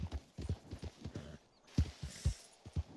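Horse hooves clip-clop at a steady walking pace in the Western video game Red Dead Online, sharp close hoof strikes landing in an uneven rhythm with a brief pause midway.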